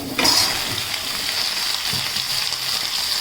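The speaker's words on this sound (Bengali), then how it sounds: "চাটনির জন্য আমি এখানে দিয়ে দিয়েছি সর্ষে, পাঁচফোড়ন আর শুকনো লঙ্কা। এটাকে একটুখানি আমি ভেজে নিয়ে" Mustard seeds, five-spice and dried red chilies hit hot oil for a tamarind chutney, a sudden loud sizzle that settles into a steady, close crackling hiss with faint stirring.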